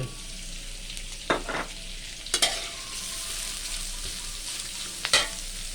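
Pork belly fries in a hot pan with a steady, soft sizzle, broken by a few sharp scrapes and clacks of a spatula stirring the meat.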